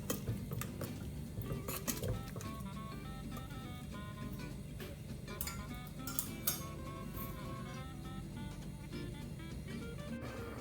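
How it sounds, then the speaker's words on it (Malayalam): Ground coconut is stirred into a spinach and dal curry in a pot, with repeated scrapes and clinks of a spoon against the vessel over a low background hum, and no talking. "ഇത് നന്നായിട്ടൊന്ന് മിക്സ് ചെയ്ത് കൊടുക്കുക"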